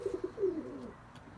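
Young fantail pigeons cooing close by, a few soft rounded coos in quick succession and then one drawn-out note, with quiet room ambience after and no talking.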